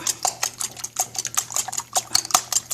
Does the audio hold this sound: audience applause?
no